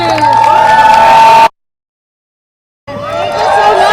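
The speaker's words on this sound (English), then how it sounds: "Can we get one more round of applause for all our key speakers?" Crowd cheering and clapping at an outdoor immigration rally against a Georgia bill, loud and close, breaking off into silence for over a second before the noisy crowd returns.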